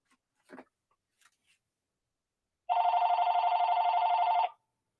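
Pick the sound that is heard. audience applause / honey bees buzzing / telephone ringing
telephone ringing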